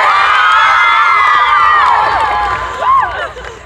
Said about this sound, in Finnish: raikuvat aplodit tällekin valtavalle joukolle.